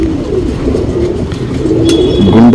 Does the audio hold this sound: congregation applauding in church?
no